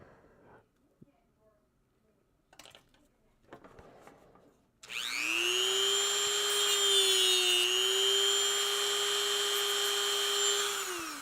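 A Dremel rotary tool spins up and runs with a high, steady whine and a slight pitch dip partway through, sounding close and loud after a few seconds of quiet handling noise.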